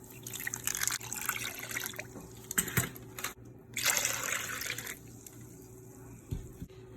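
Water pours onto dry yeast and sugar in a bowl as the start of a homemade bread dough, a close, steady splashing pour in two main bursts separated by brief pauses, with no voices.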